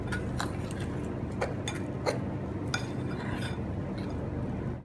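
A fork stirs plum cake batter in a bowl, giving a series of light, scattered clinks and scrapes against the dish over a steady low background hum.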